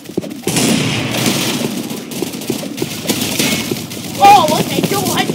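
Gunfire from guns in a video game cracks in rapid bursts under ongoing talk, with a brief sharp tone near the end.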